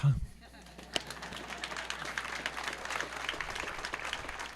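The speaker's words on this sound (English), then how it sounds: "I didn't know that was going to get a clap, but I'm thrilled" Applause at a school commencement ceremony rises after a brief thump at the start, forming a moderate, continuous patter of many hands clapping with some faint voices mixed in.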